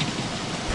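Rain falling in the video game Don't Starve, a brief steady hiss of downpour with a faint low rumble beneath.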